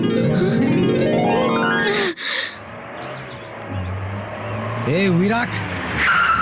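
An auto rickshaw comes straight on with its engine revving hard, then tyres skid and squeal sharply. Voices speak and someone gasps over the engine noise as it settles into a rumbling idle.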